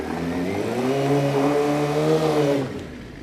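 Motorcycle engine held at high revs through a rolling burnout on loose, slippery ground, a loud steady roar for nearly three seconds before cutting off sharply.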